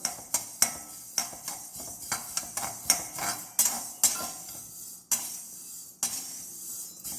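Fenugreek seeds roast in a pan while a utensil stirs them, making a quick, irregular series of close metallic scrapes and clinks against the pan over a faint background.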